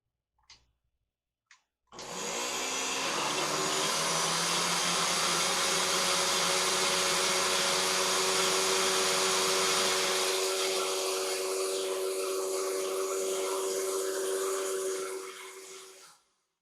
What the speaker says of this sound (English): Doesn't say how good to mix it, but I'm sure that blender mixed it really good.